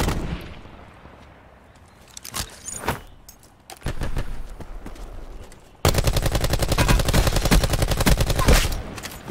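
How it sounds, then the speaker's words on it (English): Gunfire from the video game Call of Duty: Blackout, with scattered distant sniper shots followed by a loud, sustained burst of rapid automatic fire that runs to the end. "I'm getting sniped at from afar."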